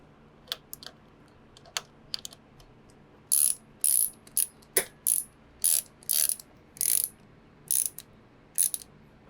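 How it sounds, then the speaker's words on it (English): Ratchet clicking in short bursts as a handlebar nut is tightened on a 1985 Yamaha FJ1100 motorcycle, about a dozen crisp, close rattling strokes in a steady rhythm with a few sharper taps early on. "And then we tighten the handlebar nut."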